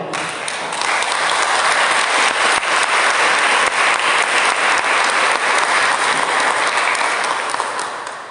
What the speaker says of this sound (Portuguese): Dê um beijo na palavra de Deus e aplaude a ele.